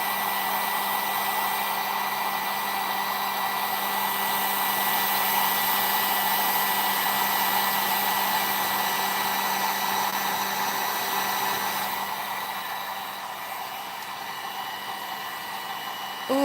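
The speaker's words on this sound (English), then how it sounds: "It's another thing about this heat gun. It is heavy. There we go. We're melting." A handheld heat gun blows hot air in a long, steady roar at close range while melting material, holding constant throughout and dipping slightly near the end.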